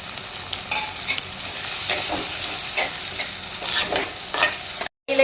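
Tomatoes frying with ginger garlic paste for a country chicken curry, stirred in the pan. A steady, close sizzle runs throughout with soft stirring scrapes, then a brief dropout near the end.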